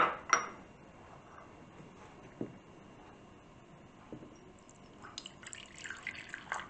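Vinegar poured from a bulk container into a small jug in a home kitchen makes a quiet, brief trickle with a few light clinks and drips. No one speaks.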